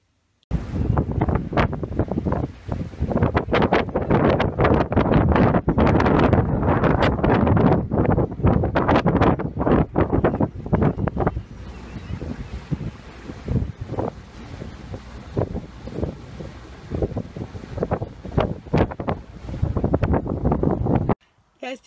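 Heavy wind buffeting the microphone while riding in a convertible with the top down on a sunny day, a constant loud roar and rumble throughout, with a voice talking over it.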